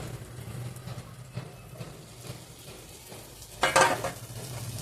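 Roasted eggplant mash for Gujarati ringan no olo goes into a hot garlic tempering, giving a short, loud burst of sizzle near the end over a low, steady background hum of gentle stirring.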